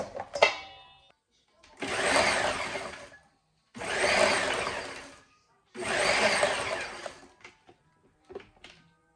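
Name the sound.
food processor pulsing cauliflower into small bits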